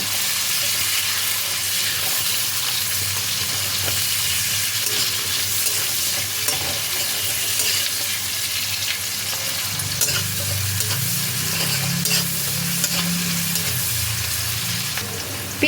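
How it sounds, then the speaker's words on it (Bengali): Chopped onion frying in hot oil for mixed fried rice sizzles loudly and continuously, with the scrape and rustle of stirring running throughout, close up and with no talking. "এই তেলের মধ্যে দিয়ে দিচ্ছি পেঁয়াজ কুচি। পেঁয়াজ কুচিটা দিয়ে হালকা করে খানিকক্ষণ নেড়ে নেব।"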